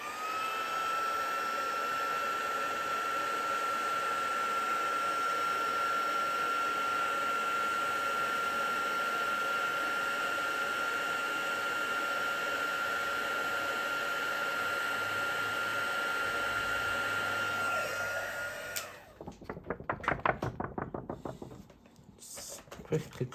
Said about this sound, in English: Run over some white embossing powder, and then grab your heat tool